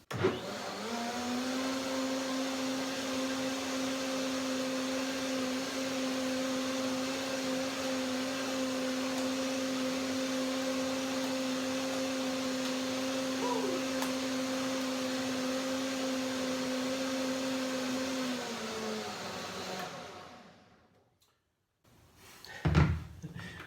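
Blender whirs steadily while blending lemony cashew cream, a loud, unbroken motor drone lasting about twenty seconds before spinning down, followed by a brief clunk.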